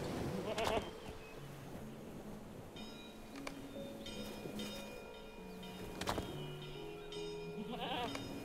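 Sick goats bleat repeatedly in the video game Lord of the Rotr Online, several wavering calls near and clear over soft ambient game sound, with occasional clatter.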